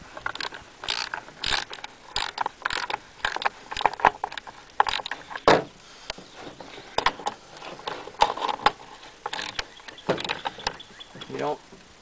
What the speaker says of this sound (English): you take your 3/4 socket and tighten these back up